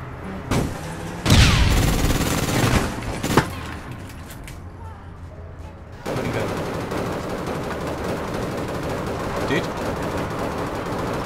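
Gunfire from the APB Reloaded video game, with bursts of rapid shots early on and a loud crack, then a steadier din of game noise as the clip goes on.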